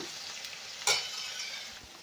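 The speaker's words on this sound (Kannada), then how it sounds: "ಹಾಗೆ 1 ಸ್ಪೂನಷ್ಟು ಧನಿಯಾ ಪೌಡ್ರು, ಇದಿಷ್ಟನ್ನು ಚೆನ್ನಾಗಿ ಮಿಕ್ಸ್ ಮಾಡ್ಕೊಳ್ಳೋಣ" A spoon stirring spices and coriander powder in a hot pan for a tamarind rice dish, a soft sizzle underneath with one sharp scrape partway through.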